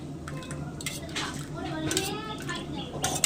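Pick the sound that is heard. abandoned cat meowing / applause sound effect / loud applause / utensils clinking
utensils clinking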